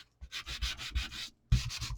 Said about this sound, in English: I'm going to do first some sanding